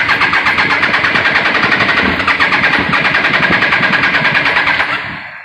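A Triumph Daytona 955i engine fires on starting fluid with new spark plugs. Its rough, loud, pulsing run holds steady for about five seconds before dying away, with no talking over it.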